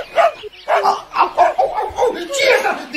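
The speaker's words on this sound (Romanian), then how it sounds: "Ce fiară lățoasă se apropie? Ce e? Dar nu te mai speria și tu din orice, Gulliver. E cățelușul grădinarului." A small puppy belonging to a gardener, barking in a radio play drama, gives several yappy barks close by, mixed with voices talking over them.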